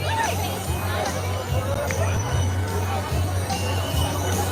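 Crowd chatter at a Liberty University Christmas tree event: a dense, close babble of many overlapping voices and a steady hubbub.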